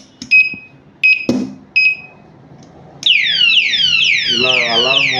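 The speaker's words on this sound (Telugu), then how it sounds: "ఇలా అలారం మోగుతూనే ఉంటుందండి" A security padlock alarm on a door or shutter lock goes off loudly nearby: a few short sharp beeps and a thump lead into a continuous wailing, sweeping siren that keeps sounding.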